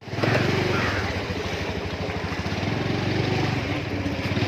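A motorcycle rides through a flooded street in Chennai with a close, continuous engine drone that chugs steadily without letting up.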